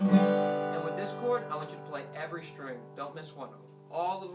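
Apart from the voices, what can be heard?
No distinct noise like a dog, phone or traffic.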